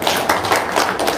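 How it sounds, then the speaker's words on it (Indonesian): An audience applauds with a short burst of scattered clapping, close and fairly loud, rising and falling in a few quick waves. "Tepuk tangan dong, luar biasa."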